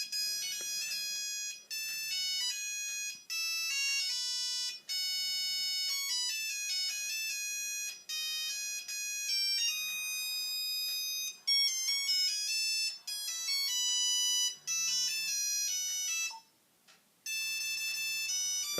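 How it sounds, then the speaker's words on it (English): A Nokia 3310 mobile phone plays a bright beeping monophonic ringtone melody, loud and steady for nearly twenty seconds with only a short gap near the end. "This is my ringtone."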